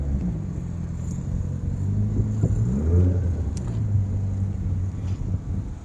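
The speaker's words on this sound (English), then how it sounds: "Look like we got quite a few modifieds coming around" Modified race cars rumbling around a racing track at a distance, a steady low engine roar with slight swells as they pass, with wind noise on the microphone.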